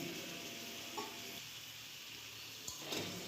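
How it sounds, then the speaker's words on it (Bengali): Spices with red chili powder and a splash of water fry in a pan, giving a steady soft sizzle with a few scraping stirs near the end. "জল দিয়ে আমি মশলা ভালো করে ফ্রাই করে নেব"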